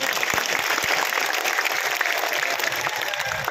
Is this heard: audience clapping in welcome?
yes